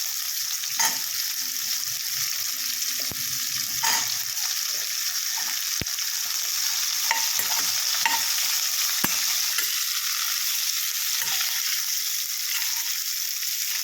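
Steady frying sizzle of tender spiny gourd (bodakakarakaya) with asafoetida in a tempering, with repeated stirring scrapes and clinks of a spatula in a pan, continuous and close, with no voices.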